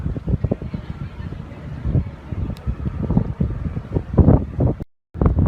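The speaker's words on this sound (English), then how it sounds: "The wind is strong" Strong wind gusts buffet the microphone on the deck of the Battleship Texas, a loud rumbling roar that keeps rising and falling, with a brief dropout near the end.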